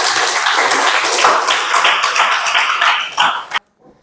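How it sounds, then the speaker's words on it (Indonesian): A classroom of students claps together in dense, steady applause lasting about three and a half seconds, loud and close, then stopping abruptly into near silence. "Tepuk tangannya dong."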